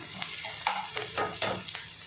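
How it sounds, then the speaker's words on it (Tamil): Mustard seeds, curry leaves, green chillies and onions sizzle and crackle in hot oil while a spoon stirs them with a few scraping strokes, close by and fairly quiet. "கடுகு, கருவேப்பிலை, பச்சை மிளகாய், வெங்காயம் போட்டு நல்லா வதக்குறோம்."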